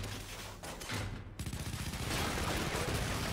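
Submachine gun fire in Shadow Complex starts quietly, then builds into a steady rattling burst of rapid shots that grows louder and continues to the end, with no voices.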